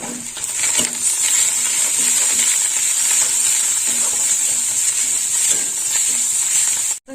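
Onion frying in a pan with ginger-garlic paste added gives a loud, continuous sizzle and hiss, broken by occasional soft stirring scrapes, close up and with no talking.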